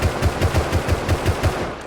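Rapid semi-automatic rifle fire from the console edition of the game Rust, about nine evenly spaced loud shots in a steady rhythm with no pauses, close and alone.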